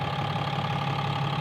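A 6.7-liter Cummins inline-six turbo diesel in a 2017 RAM 2500 idles with a steady, close, low rumble and a constant mid-pitched drone, alone with no talk.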